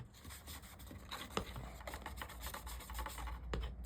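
A large Halloween lantern is distressed by hand-rubbing, giving a quiet, close, scratchy rasping made of repeated short strokes in an irregular rhythm with no talking.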